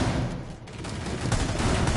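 Gunfire in the video game Rainbow Six Siege, a dense burst of rapid shots rattling continuously, loud and close, with no talk.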